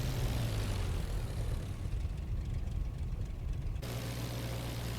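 Aircraft engine in the flight simulator IL-2 Flying Circus during taxiing: a continuous loud propeller drone with a rumbling low end and hissing wash, steady throughout with a slight shift in tone partway, no voices.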